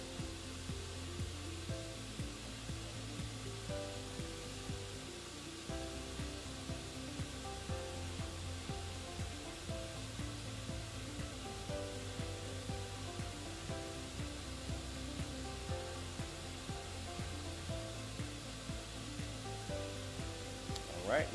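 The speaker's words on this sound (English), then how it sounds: "Then it'll go into its dry two stage where it will slow down those RPMs, kick on those heater blankets" A Doublestack 8300-S spin rinse dryer runs in its dry stage, slowing its RPM with the heater blankets on, giving a steady, continuous mechanical whir and hum with a faint rhythmic pulsing throughout.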